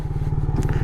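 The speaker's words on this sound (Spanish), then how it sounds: "Y por ruido me refiero al sonido de escape." A loud, close Benelli TRK 251 motorcycle exhaust putters in a steady, rapid throb, deep and continuous throughout.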